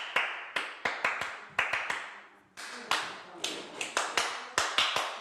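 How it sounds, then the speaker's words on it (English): Hands clap out a patterned rhythm-game sequence, sharp close claps in irregular clusters with short pauses, alone without talk. "Do a clap, clap, then you do like that rhythm thingy, then you clap 2 times."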